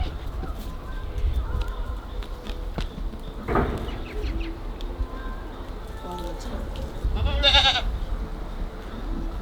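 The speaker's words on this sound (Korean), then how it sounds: "염소 달려온다." Goats bleat as they come running across an island farm enclosure on Jeopdo near Jindo, with two distinct bleating calls, one short and one longer, over steady outdoor background noise and faint voices.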